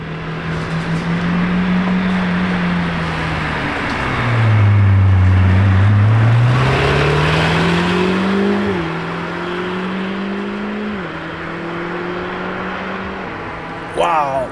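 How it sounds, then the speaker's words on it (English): Lamborghini Temerario idling and revving at the factory, a deep steady engine drone that swells and dips through several throttle changes, close and loud, with crowd noise around it. "That is the sound of a Temerario"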